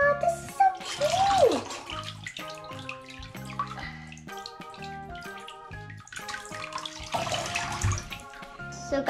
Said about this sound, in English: So first I have to put some warm water in the bathtub.